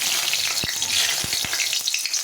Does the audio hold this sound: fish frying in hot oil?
yes